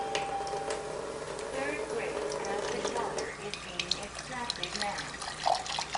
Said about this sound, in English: We're just rinsing them to make sure that we get rid of any of that alkaline water.